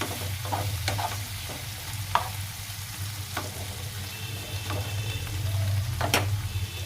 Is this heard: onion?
yes